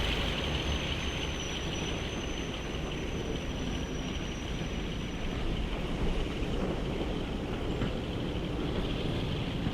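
A train departing in Train Sim World 2 on the West Somerset Railway: a steady low rumble of rolling carriages with a faint whine, even and moderate in level, with no talk.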